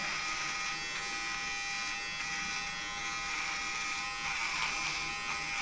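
A Xiaomi Uniblade electric trimmer cuts hair with a continuous, close, high-pitched motor buzz that stays steady from start to finish, with no talking.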